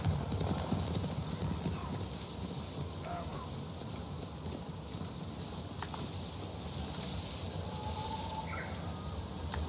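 A horse's hooves clip-clop in the video game Ghost of Tsushima, a quick steady rhythm of hoofbeats in a quiet open landscape with faint ambient insects and wind.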